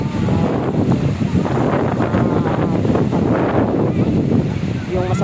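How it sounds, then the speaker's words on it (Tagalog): Steady, loud wind buffeting a microphone on a small boat out at sea, a continuous broadband rush that fills the whole clip with no pauses. "Yung masarap na hangin."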